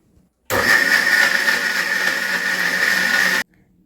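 A blender whirs loudly and evenly for about three seconds as it grinds flattened rice (aval) for a whey protein drink. The motor starts and stops abruptly, with near silence before and after.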